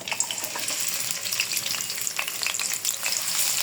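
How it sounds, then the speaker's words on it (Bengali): Chopped onions fry in hot oil with cloves, cardamom and cinnamon for a beef and potato curry, giving a loud, continuous crackling sizzle with dense sputtering pops and no talk. "পেঁয়াজ দিয়ে একটু মোটামুটি লাল লাল করে ভাজা করে নেব।"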